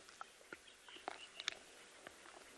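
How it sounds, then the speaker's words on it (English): Scattered bird calls at dawn on a South African safari: faint, brief chirps and peeps spaced irregularly against a quiet outdoor background. "all we're just hearing now, it's all birds audio"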